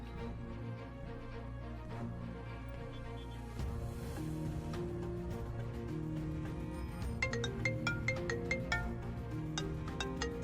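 A phone ringtone for an incoming call plays through the whole stretch, a steady melodic tone pattern over a drama soundtrack, growing busier with bright repeating notes toward the end.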